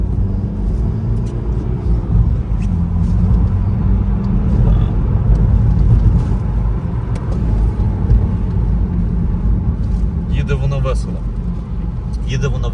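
BMW car driven in sport mode, a loud low engine rumble inside the cabin that rises slightly while accelerating, with a voice talking over it and some clicks near the end.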